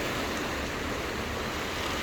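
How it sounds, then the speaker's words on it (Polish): Sea waves wash onto the shore at Corfu, Greece, a steady, fairly loud broadband hiss of surf with no distinct breaks and no voices. "Akurat teraz fale, piękne fale."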